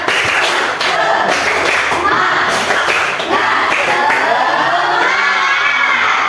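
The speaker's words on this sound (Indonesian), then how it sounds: "Ice breakingnya tepuk semangat." A classroom group of teachers in training claps a rhythmic spirit-clap icebreaker together, loud and close, with patterned bursts of clapping and some shouts mixed in throughout.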